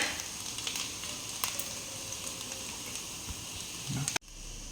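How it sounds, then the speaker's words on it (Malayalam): Carrots and green peas sizzling and frying in a pan with sautéed onion for fried rice, a steady close hiss with occasional stirring clatter, ending in a sudden cut to quieter sizzle. "സവാള വഴറ്റിയത്, ഇനി ക്യാരറ്റും ഗ്രീൻ പീസും കൂടി"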